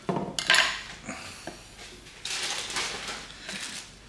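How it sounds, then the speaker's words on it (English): A knife trims carrots on a cutting board with a quick burst of sharp clacks and scrapes at the start, then scattered taps and rustling handling sounds close by, without speech. "Just trim some carrots."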